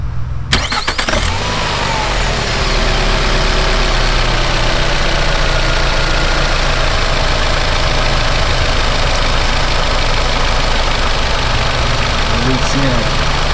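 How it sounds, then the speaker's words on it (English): A 2006 Nissan Altima fresh from a camshaft sensor replacement cranks briefly, catches and settles into a steady, loud, close idle that runs continuously. "We're going to go and start it up and make sure that it runs."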